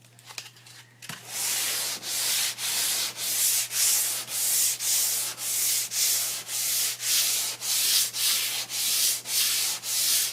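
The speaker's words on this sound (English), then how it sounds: "With the 180 grit, I'm going to do even a lighter sand." Wooden furniture is hand sanded with 180 grit sandpaper in brisk, regular back-and-forth strokes, a steady rhythmic rasping heard up close with no talk over it.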